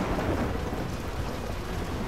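A hailstorm with thunder in the video game Gears of War 2: a dense, continuous roar of hail and rain pounding surfaces with a low rumbling undertone, loud and steady, with no voices.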